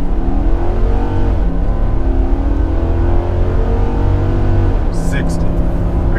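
A Nissan Titan Pro4X pickup truck accelerates hard from a standstill to 60 uphill, its engine a loud, steady drone that holds from start to finish, captured close from inside the cab.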